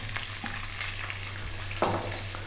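Onion and garlic fry gently over low heat in oil, giving a steady close hiss broken by a few light spoon scrapes and one firmer stir near the end, with no voices.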